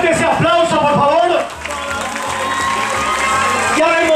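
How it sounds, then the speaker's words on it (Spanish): Crowd applause and cheering at the inauguration of a UNACE political party headquarters, first under a loud shouting voice, then a steady, sustained ovation filling the hall. "¡Más fuerte ese aplauso, por favor!"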